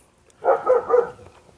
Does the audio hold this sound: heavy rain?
no